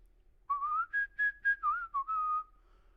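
Someone whistles a short melodic tune alone, a run of clear rising and falling notes with brief gaps between phrases, close and steady.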